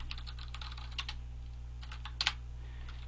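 Computer keyboard typing, quick bursts of light clicks in two clusters over a steady low hum, close and fairly quiet.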